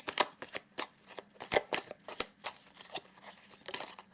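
Chakra Love oracle cards being shuffled close up, a quick irregular series of crisp riffling slaps and soft flicks, fairly quiet, with no talking.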